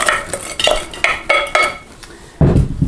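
Frozen diced red-skin potatoes tumble into a pan in several quick, close, clattering bursts, hard little pieces knocking against metal, followed by a louder final pour.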